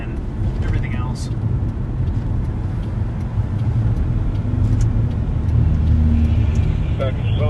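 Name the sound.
car driving in slowed motorcade traffic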